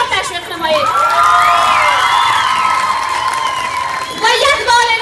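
A crowd at a Hazara Culture Day gathering cheers and applauds loudly, with whoops, high shouts and whistles rising over a dense, sustained roar of clapping.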